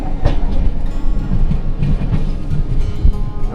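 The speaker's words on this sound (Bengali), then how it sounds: "এখন পুরোপুরি ট্রেনটা পাহাড়ের মধ্যে দিয়েই চলছে" A train rumbles along slowly through hills on the Araku to Jagdalpur line, wheels knocking in an uneven clickety-clack under a low steady roar, close and fairly loud.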